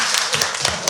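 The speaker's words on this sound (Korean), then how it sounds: "박수 한번 치겠습니다" A press event audience claps together in a short burst of overlapping hand claps, close and fairly loud, lasting about a second.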